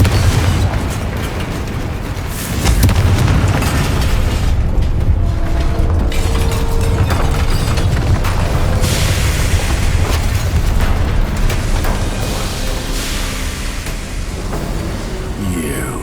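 Confringo fire spell bursting in Hogwarts Legacy on PS5, a loud, dense run of booming explosions and crackling impacts layered over continuous game effects for the whole stretch.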